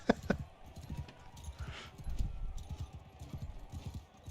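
Hooves clip-clop on a horse in a modded video game, a quick galloping rhythm of low thuds, fairly quiet and layered with other game effects.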